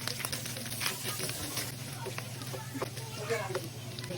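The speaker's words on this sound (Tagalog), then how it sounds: "Medyo nagmantika na yung pork, maglalagay na ako dito ng bawang." Garlic sizzling in rendered pork fat in a home kitchen pan, a close, continuous crackling fry with a voice talking over it.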